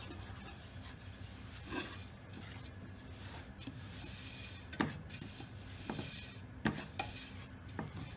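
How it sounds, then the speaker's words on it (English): Semolina stirred in a pot while melted cheese cooks for halawet el jibn, with quiet, close rubbing and scraping of a spoon and a few sharper clinks against the pot, low in level with no talk. "Now we just want to stir them together and combine them and cook them together."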